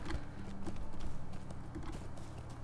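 Horse hooves clip-clop in Lord of the Rings Online in a quick, even rhythm of soft thuds. They sound at moderate distance against a quiet game background.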